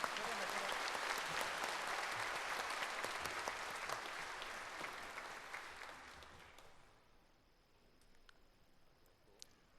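Audience applause at a Korean Liberation Day ceremony, a broad sustained wash of clapping from a large crowd that gradually thins and fades to faint scattered claps.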